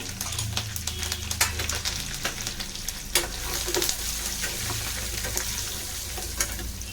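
Cinnamon, cloves, dried chili, curry leaves and turmeric sizzle and crackle in hot oil, a steady close frying hiss with scattered sharp pops and occasional stirring scrapes.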